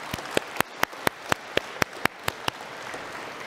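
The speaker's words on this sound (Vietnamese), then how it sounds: "một tràng pháo tay thật lớn để chúc tụng các ngài" Sharp, evenly spaced claps sound over a soft background wash of applause from a church congregation during a New Year's Eve Mass, fading out after about two and a half seconds.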